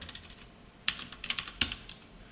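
Someone types C code on a computer keyboard, giving a few quick clusters of crisp, close keystrokes separated by short pauses, with no voice.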